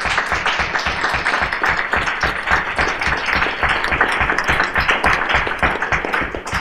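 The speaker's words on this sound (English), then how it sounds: "If we could get a little round of applause or something." Sustained audience applause fills a political hustings hall after a student societies' debate, dense and steady clapping from a sizeable crowd throughout, with no talk over it.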